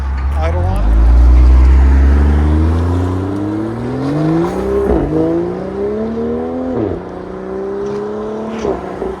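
A 2020 BMW M340i with a 3.0-litre inline-six and a Dinan axle-back exhaust drones loudly close by, its pitch climbing and dipping through revs with a few sharp shifts, while voices talk faintly underneath.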